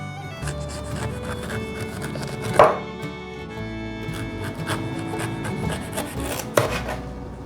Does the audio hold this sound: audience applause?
no